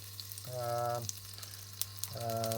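Vegetable oil sizzles and crackles in a pan while cooking an easy lentil curry, with a steady hiss broken by two bursts of a tonal, hum-like stirring or scraping sound.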